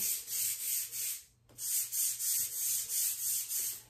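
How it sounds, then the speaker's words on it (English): Rhythmic back-and-forth scrubbing of a wet surface by hand, steady rubbing strokes at close range with a brief pause midway, no voices. "I just take time here to scrub this down."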